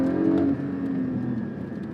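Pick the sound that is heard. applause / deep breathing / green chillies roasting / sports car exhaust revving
sports car exhaust revving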